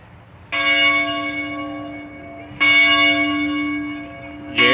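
Campus bell at the University of Georgia in Athens ringing loud and near, three separate rich ringing strikes spaced about two seconds apart, each hum slowly decaying before the next, with no talking.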